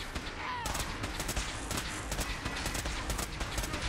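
Gunfire in the video game Fallout 4, a rapid, steady run of sharp shots in quick succession at moderate loudness.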